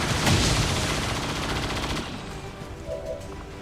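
Rapid bursts of automatic gunfire from the video game XCOM 2, a dense crackling volley for about two seconds that then drops to a quieter rattling background.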